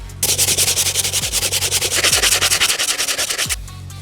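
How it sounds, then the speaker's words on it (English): A soft bristle brush scrubs the rubber outsole of a grimy Converse Chuck Taylor in quick back-and-forth strokes, a loud, close, rhythmic rasping that runs steadily for a few seconds, then stops. "I'm gonna start with the Soft Bristle Brush, try to break down as much of that grime as possible"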